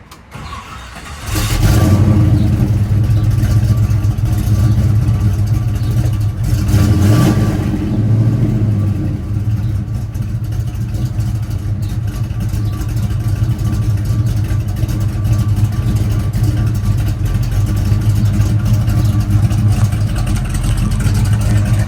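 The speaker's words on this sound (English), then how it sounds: "Let me start the Camaro. This way you can hear what my son's car sounds like." A 1969 Camaro engine cranks and fires up, then settles into a loud, deep, rumbling idle that runs steadily, close by.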